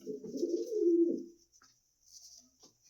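Pigeons coo in a pigeon house, a close, low rolling coo for the first second and a half followed by a quieter, shorter coo, with faint chirps above.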